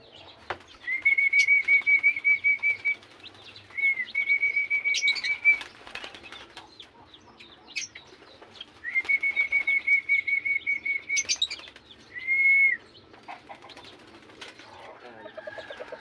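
Bato-bato doves in a breeding cage flap their wings in rapid bursts of beating at close range, with brief chirps and rustling between the flurries.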